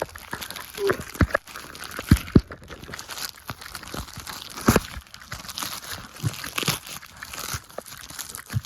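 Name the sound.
unwrapping a taped-up package containing a hoodie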